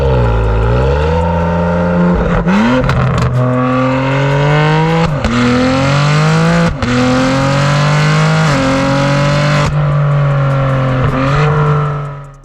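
A BMW G80 M3 with an aftermarket exhaust revs hard and close up, its engine note climbing and dropping in repeated sweeps with sharp crackling shifts, loud throughout and with no voices.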